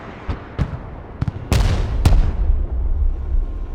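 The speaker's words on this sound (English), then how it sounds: "I always forget to use my artillery" Artillery fire in the war game Broken Arrow, several sharp distant booms followed by heavier blasts with rumbling tails, irregularly spaced over a low background.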